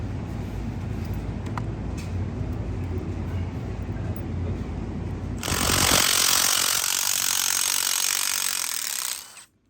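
A 3/8-inch impact wrench with a 5/16 socket hammers loose motorcycle skid plate bolts on a 2023 CVO, a loud continuous rattling drone that grows brighter and harsher before stopping abruptly.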